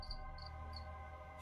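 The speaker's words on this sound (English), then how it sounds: "I open my window. There's a cricket outside." A cricket chirps outside a window in three evenly spaced, bright trills, steady and moderately close over a low constant hum, with no voices.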